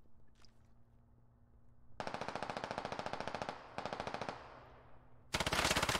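Automatic gunfire in the military shooter video game Squad: two sustained rapid bursts of evenly spaced shots, then a third louder, closer burst after a brief pause.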